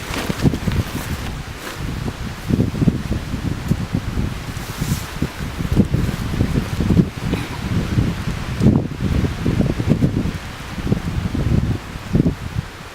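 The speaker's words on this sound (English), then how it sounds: "A little bit windy." Gusty wind buffets and rumbles continuously, with a rustling, blustery texture and no voices present.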